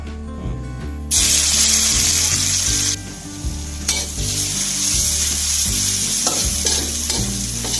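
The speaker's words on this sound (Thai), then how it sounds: "ใส่น้ำมันลงไป แล้วก็เจียวสามเกลือให้หอมนะครับ" Sam kler of garlic, coriander root and pepper frying in oil over low heat for Thai braised eggs with pork belly, a loud close sizzle with repeated stirring scrapes in the pan under a steady music bed.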